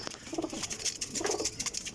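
Several racing pigeons kept for sale coo softly in low, repeated bursts against a steady background hiss, with no talk over them.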